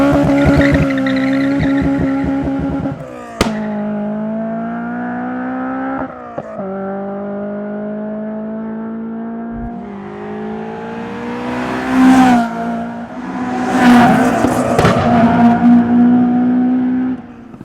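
A Honda Civic EP3 Type R with a full Spoon Sports manifold, B-pipe and N1 back box exhaust revs hard: a loud, raspy engine idles and climbs in pitch, blipped through several rising surges near the end, with no talking.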